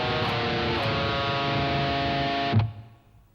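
Heavily distorted electric guitar plays a fast lick in a continuous dense run, then stops abruptly with a short decaying ring.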